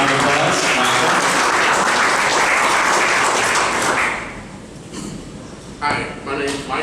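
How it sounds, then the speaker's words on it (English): Audience applause greets brewery guests at a beer industry talk event in Kansas City, loud sustained clapping from a crowd for about four seconds, then tapering into scattered claps and a few faint voices. "Steven, round of applause"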